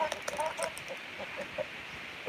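Chickens clucking on a rural South Dakota farm, a scatter of short soft clucks at moderate distance over steady outdoor background noise.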